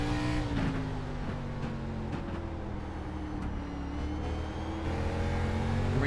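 Race car engine in a sim racing game at a short oval bullring, revving steadily down the back straight, a loud continuous drone with rising and falling pitch and slight throttle blips, no voices.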